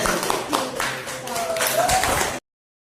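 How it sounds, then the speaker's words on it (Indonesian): A classroom of students claps during a micro-teaching lesson, a short burst of loose, overlapping handclaps that stops abruptly, with voices mixed in underneath. "Tepuk tangan."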